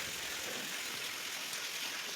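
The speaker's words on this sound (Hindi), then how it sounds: "चलो आपको दिखाती हूँ कि आज यहाँ पर कितनी बारिश हो रही है" Heavy morning rain falls outside in an even, steady hiss with no break, fairly distant and with no voices.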